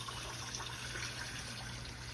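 Water runs steadily into a can being rinsed out while shrimp stock is made, a continuous close hiss and gush with no talk.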